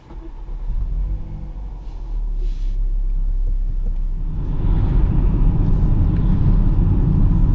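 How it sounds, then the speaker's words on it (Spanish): A 2018 Volvo XC40 T5 AWD R-Design with a 2-litre four-cylinder turbo petrol engine starts up, a low rumble swelling into a steady, louder idle drone heard from inside the car. "Así que vamos a arrancar el vehículo, para ello pisamos el freno y pulsamos el botón de estadeño."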